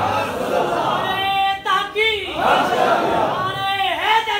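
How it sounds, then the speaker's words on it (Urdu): A crowd at a religious sermon gathering loudly shouts back a response to a slogan, a sustained, ringing chorus of raised voices filling the space, rising and falling in waves. "زور سے بولیں، نعرے کا جواب زور سے"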